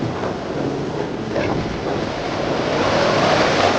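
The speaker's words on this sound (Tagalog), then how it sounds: "Look at that wave!" Steady broadband roar of ocean surf with waves washing in at a La Union beach, rising slightly toward the end, with some wind buffeting the microphone.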